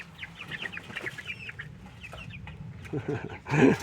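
Young hens cluck and chirp near a brooder on a high-elevation homestead at 7000 feet, with a steady run of soft, close calls and a louder flurry of clucking at the end.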